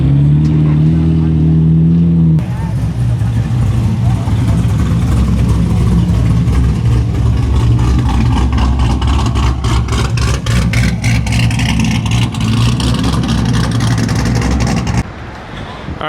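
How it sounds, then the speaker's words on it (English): A Chevrolet Corvette C8 Z06 engine rumbles and revs nearby at a car show, growling steadily as it rolls up, with a throaty burble throughout before it quiets at the end. "You have a C8 Z06 pulling on up."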